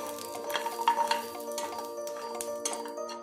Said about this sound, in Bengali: তারপর বড়িগুলো হালকা আঁচে ভেজে নিতে হবে